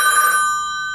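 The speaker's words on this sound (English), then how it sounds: "that's my brother ringing me" Telephone ringing with a bright, bell-like electronic tone that sounds once at close range and then trails off and decays over about a second.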